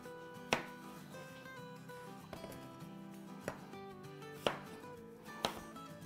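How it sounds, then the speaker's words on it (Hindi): A knife chops a cucumber on a board, first cutting it lengthwise and then into pieces, giving four or five distinct, fairly quiet thuds spaced about a second apart, with no talking. "अब हम इसको लंबाई में पहले काट लेंगे और अब इसके भी पीसेस कर लेंगे"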